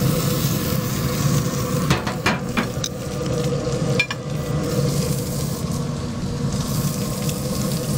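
Steak searing on a pellet grill, a steady loud sizzle running throughout with a few brief clanks of handling, no talking.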